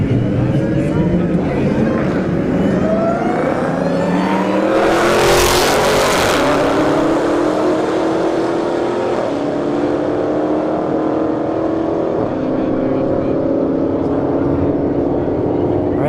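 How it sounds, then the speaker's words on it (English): Challenger Hellcat and Charger Scat Pack launch side by side down a drag strip at a street-heat test-and-tune night, engines roaring hard and rising through gears, a loud burst midway as they pass near, then fading as they run away. "Challenger Hellcat in the right lane, Charger Scat Pack in the left lane."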